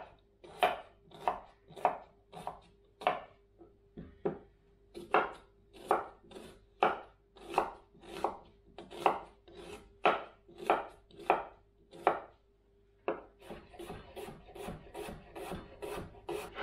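A knife chops onions on a cutting board during Sunday meal prep, with close, distinct strokes in a steady rhythm, a brief pause near twelve seconds, then faster, lighter cuts.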